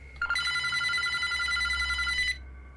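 A telephone bell rings in one sustained burst of about two seconds, loud and close, with no talk over it.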